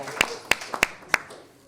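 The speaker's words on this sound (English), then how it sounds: "Let's give them applause" A few sharp, separate hand claps ring out at a voting rights seminar, roughly four distinct slaps spaced unevenly and close by, rather than a full round of applause.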